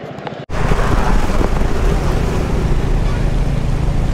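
A motorcycle riding along a road in Pune, a loud steady roar of engine and rushing wind buffeting the microphone that kicks in abruptly after a brief quiet moment and carries on unbroken.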